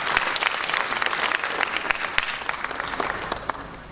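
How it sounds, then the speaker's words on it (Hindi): An audience at a literary awards ceremony breaks into applause, a thick steady roll of many hands clapping with a few sharper individual claps standing out over about four seconds. "तालियां।"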